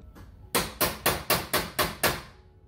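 A hammer strikes a Pokemon Sword and Shield starter tin six times in a steady, evenly spaced run, each hit a loud, sharp, close metallic bang with a short ring, and no talking over it.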